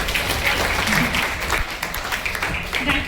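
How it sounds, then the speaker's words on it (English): An audience at a children's art workshop applauds in a steady, dense burst of clapping that holds for a few seconds at moderate loudness. "So big round of applause for Anushka."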